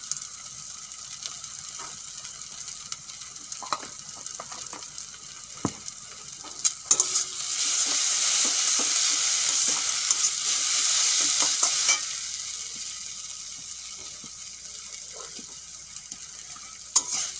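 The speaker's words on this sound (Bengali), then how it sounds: "পেঁয়াজ ভাজা হয়ে গেছে।" Onions frying in a pan and being stirred, a steady close sizzle with scraping spatula strokes that swells loudest midway, then settles back to a lighter crackle, with no talking.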